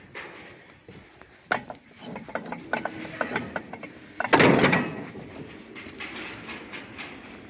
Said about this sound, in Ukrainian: передатка 1 до 6 все крутиться, все добре. Ну і такий редуктор є.